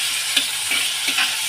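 Tomatoes frying in a pan for a Bengali tilapia, potato and eggplant curry, a loud, steady close sizzle with a few soft stirring scrapes.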